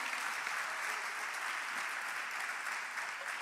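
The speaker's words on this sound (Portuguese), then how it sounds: "pode aplaudir o Senhor" A church congregation applauds, a dense, even wash of clapping from many hands that holds steady throughout, with no voices standing out.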